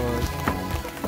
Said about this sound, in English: It's Halloween and it's raining.